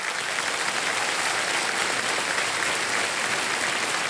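A television quiz-show studio audience on Kaun Banega Crorepati applauds, a steady, dense wash of clapping from many hands lasting about four seconds without any speech.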